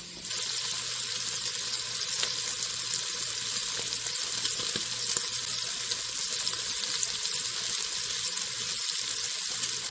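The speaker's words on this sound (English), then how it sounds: "while this bacon browns up" Bacon browns in a pan with a dense, continuous crackling sizzle, close and even throughout, with no voices.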